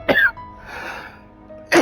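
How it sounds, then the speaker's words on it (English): A sudden sneeze bursts close into a microphone, followed by a quieter breathy exhale and then a second sharp, loud burst of a sneeze or cough. "That sneeze came out of nowhere."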